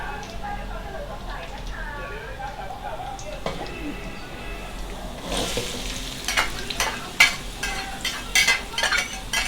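Sizzling and stirring in a hot pan as onions fry, with scraping utensil clinks growing louder in the second half, under faint background voices.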